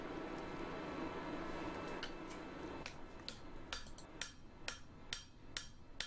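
Forging hammer striking a bottom swage while shaping a shackle, a series of sharp metallic blows that grow more distinct and spaced in the latter half, following a steady noisy background in the first seconds.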